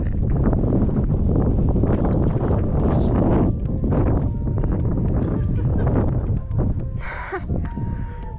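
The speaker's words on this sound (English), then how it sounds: "the wind is super strong right now." Strong gusting wind buffeting the microphone outdoors in Eilat, loud rumbling blasts that surge and ease, with brief faint voices in the background.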